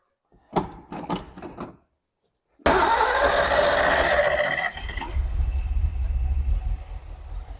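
An early Ford Bronco fitted with a used carburetor cranks briefly in several short bursts, then catches and starts loudly, settling into a steady, rough mid-pitched idle up close.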